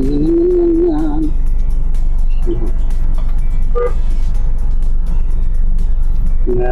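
A car drives slowly around a residential subdivision still under construction in Mansilingan, Bacolod, with steady low engine and road rumble throughout and a brief voice near the start.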